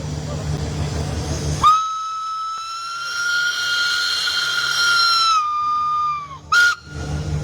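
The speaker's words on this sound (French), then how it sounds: "Et tu nous fais un coup de sifflet pour Facebook? Attention, bouchez-vous les oreilles." A loud, sustained steam whistle blast at an old trades festival in Brittany, a steady multi-tone shriek lasting about five seconds before cutting off, then a short second burst.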